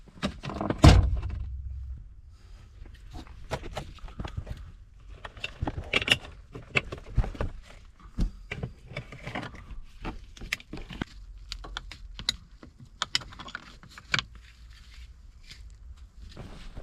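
Parking brake lever being removed from a Mercedes Vito W639 van's dashboard: scattered close clicks, clunks and light plastic rattles at an uneven pace, with quiet pauses between.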